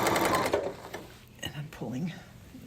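A sewing machine with a walking foot stitches minky fabric in a fast, rhythmic mechanical patter at first, then stops and starts in short bursts while a person talks over it.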